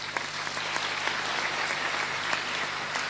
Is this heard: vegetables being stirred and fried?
no